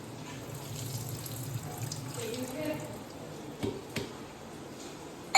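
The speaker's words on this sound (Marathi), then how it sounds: "आणि थंड पाण्याने धुवून घेते." Cold tap water runs over boiled Maggi instant noodles in a kitchen sink, a soft, steady flow with a few splashy knocks near the end, fairly quiet and close.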